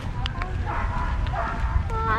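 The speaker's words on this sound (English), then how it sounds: "look at the dogs" Dogs barking outdoors at Sands Point Preserve, a few short yips and barks mixed into busy background noise with people talking nearby.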